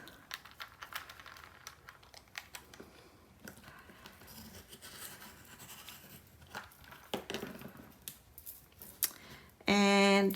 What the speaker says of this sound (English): using my blue blade again, we're going to cut 2 ovals from black cardstock